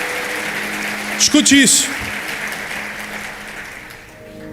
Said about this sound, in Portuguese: Forte aplauso para o nosso casal modelo.